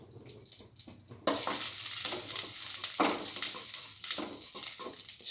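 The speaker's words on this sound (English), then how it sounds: "Heat the pan and pour in around 10 grams of clarified butter" Clarified butter (ghee) heating in a pan, a quiet start that gives way to a sudden steady sizzle and crackle close by, with a few soft scrapes and no voices.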